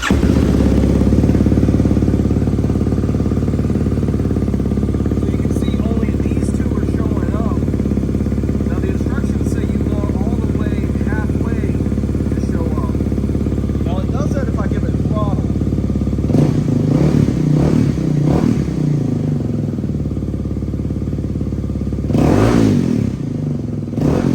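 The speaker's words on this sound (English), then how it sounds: "let's do some revs and let's show you some idling." Kawasaki KLX300R dirt bike with an EJK fuel tuner installed, its single-cylinder engine idling steadily up close before several sharp revs near the end, with a person talking over the motor.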